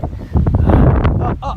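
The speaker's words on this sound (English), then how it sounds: "So windy." Strong gusty wind buffets the microphone outdoors in Simi Valley, with loud rumbling bursts and rustling, while a person speaks briefly over it.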